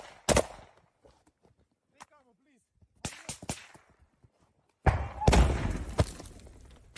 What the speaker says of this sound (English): You can hear some kind of explosion occur incredibly close.